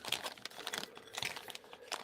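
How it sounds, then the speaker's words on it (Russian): Scissors cut open a crinkly Chinese snack packet, giving close, irregular plastic rustling and crinkling with small crunchy snips. "Давайте резать ножницами тогда."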